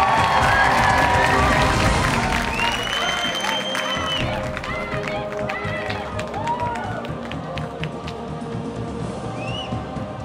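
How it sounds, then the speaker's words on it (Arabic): A studio crowd at the Mr. Lebanon 2013 pageant claps and cheers for contestant Hani Zeitoun, with loud sustained applause and shouts filling the room and a host's voice briefly cutting through. "بدنا حماس كتير كبير للشباب، بدنا تشجيع لإلون وتشجيع لهاني زيتون"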